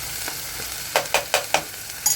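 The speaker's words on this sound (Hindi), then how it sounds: "अदरक लहसुन का पेस्ट डाल के भी हम इसको भूनेंगे" Ginger-garlic paste sizzles in a hot pan for chole masala, with a faint frying hiss throughout and several sharp scraping stirs in quick succession partway through.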